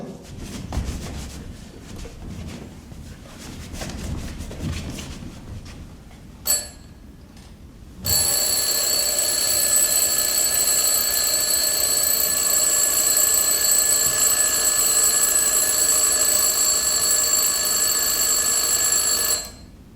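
An alarm clock rings on stage during a theatre play, a loud continuous metallic ringing that starts abruptly after a few seconds of quiet room tone and a brief click, then holds steady for about ten seconds before cutting off.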